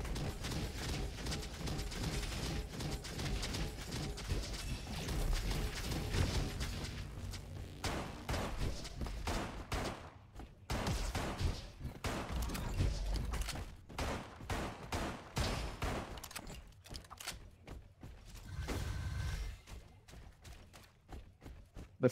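Revolver gunfire from the video game Roboquest, with repeated sharp shots in uneven bursts over dense, busy game sound, including explosions and effects, continuing throughout at a loud, close level.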